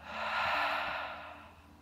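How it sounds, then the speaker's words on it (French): A long, steady exhale through the mouth during a yoga breathing exercise, a soft breathy rush that swells and slowly fades over about two seconds, close and alone. "Expire par la bouche."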